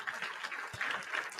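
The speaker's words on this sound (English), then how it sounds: "We will hit the applause right there" A short burst of applause fired from a soundboard: dense, even crowd clapping at a moderate level with no talk over it.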